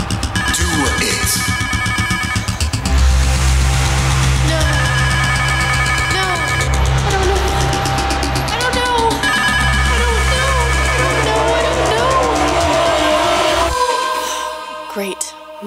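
A telephone rings loudly and insistently, its repeated electronic trilling bursts coming in a steady rhythm over a dense, cluttered background for most of the span before cutting off near the end, with no clear talking.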